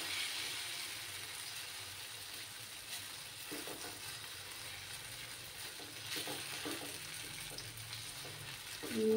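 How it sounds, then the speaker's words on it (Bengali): Vegetable paratha frying in a pan gives a steady, quiet sizzle with a few scraping, clicking handling sounds, and a brief tonal beep right at the end, with no talk. "এবার আমি বাকিগুলো সেম প্রসেসে ভেজে নেব।"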